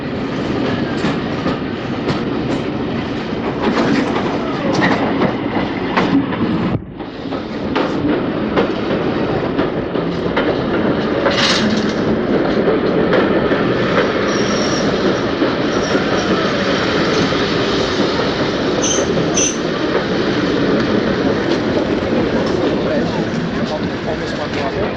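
A British Railways 4 SUB electric multiple unit rolls steadily along the track with rumbling wheels and faint clatter, continuous throughout, with a voice heard over it.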